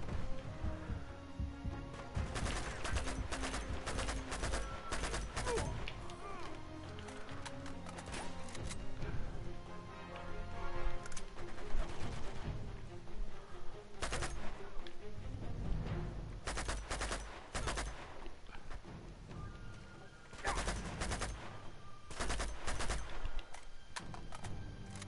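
AK assault rifle fire in Uncharted 2: Among Thieves, loud repeated bursts and single shots spread across the whole stretch amid game combat noise, with brief pauses between volleys.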